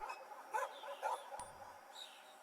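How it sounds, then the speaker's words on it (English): Dogs bark and yip in a video game, a few soft muffled barks heard at a distance, low under the game's ambient sound with no talking over them. "I hear dogs barking"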